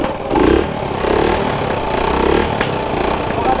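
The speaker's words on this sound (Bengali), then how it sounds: "ইঞ্জিন স্টার্ট হচ্ছে তো" A motorcycle engine in a newly bought KGF bike starts and revs in a few short bursts, loud and close, then settles into a rough idle.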